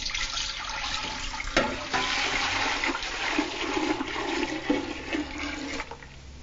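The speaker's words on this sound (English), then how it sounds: "here, this is my stock. I'm going to pour it in to the pot." Homemade bone stock for Haitian soup joumou is poured into a soup pot, a steady splashing liquid pour lasting several seconds with a couple of louder sloshes, with no talking.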